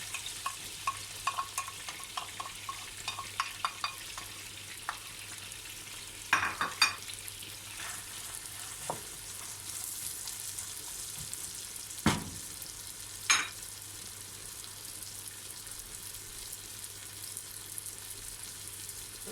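Minced meat, kept frozen, sizzles and fries with onion in a pan for green bean kavurma, a steady soft crackle broken by a few louder stirring scrapes and clatters, with no talk.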